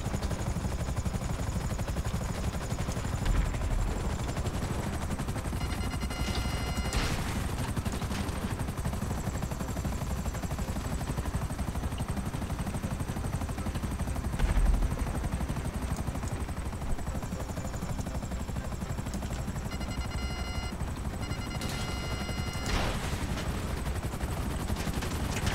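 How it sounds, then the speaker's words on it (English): A police helicopter drones steadily overhead in Grand Theft Auto Online while bursts of gunfire crackle intermittently, a constant rotor hum under scattered sharp shots. "Yeah, I know, the cop helicopters, though."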